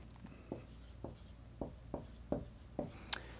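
Pen strokes as a chemistry calculation is written out, a series of about seven short scratchy marks in an uneven rhythm, close and quiet, with no voices.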